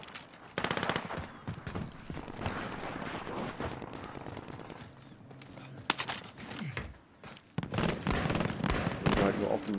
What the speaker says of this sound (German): Wird auf jeden Fall irgendwo geschossen